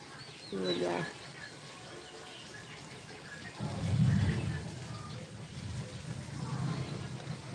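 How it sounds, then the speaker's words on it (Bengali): Soft, steady rain patters in the background while a voice speaks intermittently over it. "বৃষ্টির একটা যে শব্দ সেটা শুনতে পাচ্ছি"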